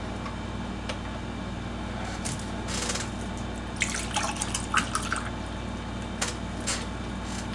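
Water drips and trickles while a glass is filled indoors, with a few soft irregular splashes and taps over a steady background hum.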